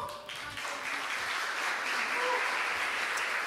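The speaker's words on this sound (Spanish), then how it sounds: "Dale fuerte, fuerte ese aplauso si es para el Señor, dáselo fuerte" A church congregation applauds during an Easter Sunday service, a dense, sustained round of clapping that fills the room and stays loud throughout.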